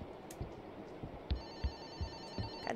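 A telephone rings inside the horror video game FOBIA: St. Dinfna Hotel, a faint electronic bell tone over dull thumps and low ambient noise, with no voices.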